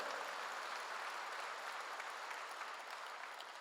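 A church congregation applauds in a steady, even patter of many hands that continues without a break and sounds soft and somewhat distant.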